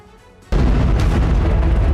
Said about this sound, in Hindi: काला सागर की शांत लहरों में फिर एक धमाका हुआ।